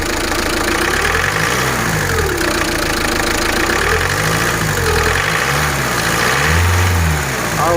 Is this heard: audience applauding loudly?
no